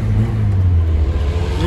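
A Doğan SLX car with an aftermarket Varex exhaust revs in a steady, loud, low-pitched drone from close by, with no talk over it.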